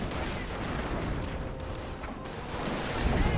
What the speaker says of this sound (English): Oh, butterfly bombs.